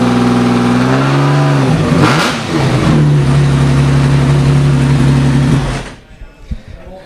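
A classic car's engine runs loud and steady at a concours car show, rising and falling in pitch as it revs, then cuts off abruptly, leaving a few faint clicks.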